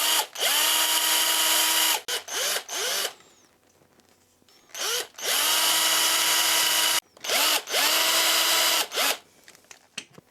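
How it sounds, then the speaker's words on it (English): A power drill whirs in several bursts, drilling eye sockets into a bait for a swimbait mold, spinning up and winding down with short pauses and faint scraping in between, close and loud. "So next I want to go ahead and drill the eye sockets"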